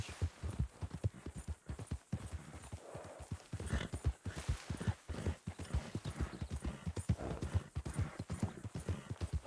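Horse hooves in the video game Red Dead Redemption 2 clip-clop in a steady trotting rhythm, close and clear, with a low hum underneath and no speech.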